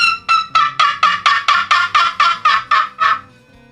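A wild turkey gobbles loudly and close by, a rapid rattling run of about a dozen evenly spaced bursts that ends abruptly in quiet.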